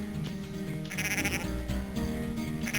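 Sheep bleating in the Game Boy Advance herding game Cool Herders, layered into dense game music and effects, with short repeated electronic bleats across the whole stretch.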